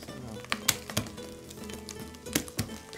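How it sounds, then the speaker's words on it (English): Chorizo browning in a pan gives a soft, steady sizzle, broken by a few sharp clicks and scrapes of stirring. "The chorizo is starting to brown now."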